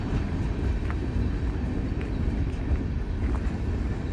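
A Norfolk & Western locomotive and its train roll past a grade crossing as a steady, broad rumble and rattle of wheels and cars, loud and continuous throughout with no voices.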